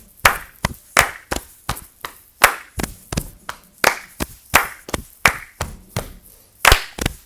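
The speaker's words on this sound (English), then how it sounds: "follow the clap" Sharp hand claps in a steady rhythm for a fourth-grade class exercise, each clap crisp and close, with evenly spaced beats and occasional quick double claps, alone without talk.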